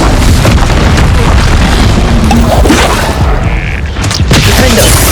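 A fire spell blasts in Hogwarts Legacy during a fight with a Quagmire Troll, a loud booming burst over dense, constant battle noise, with a voice calling out nearby.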